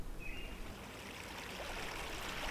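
Sybil Creek flowing along its bed, a faint, steady watery hiss without speech, with a brief high chirp near the start.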